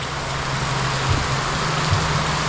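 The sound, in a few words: heavy rain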